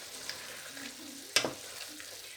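Potatoes and ridge gourd frying in a pan make a faint, steady sizzle, broken midway by one sharp scrape or clink of a spoon against the pan.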